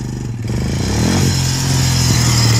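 A four-wheeler ATV engine revs up close by, a rough, steady motor drone that climbs in pitch, with clattering mechanical noise over it.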